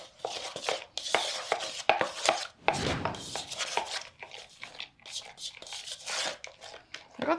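Wet brownie ingredients are stirred in a bowl, irregular scraping and rubbing strokes of a utensil, close and moderately loud, with people talking in between.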